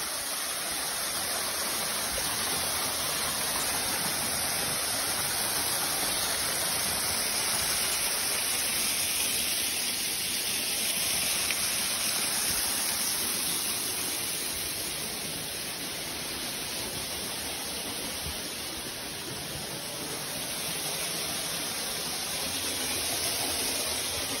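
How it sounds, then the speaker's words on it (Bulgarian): Reselets waterfall Skoka roars steadily from close by at its foot, a dense, continuous rush of falling water that stays loud and unbroken throughout, with no voices. "Ето ни вече от подножието на самия водопад."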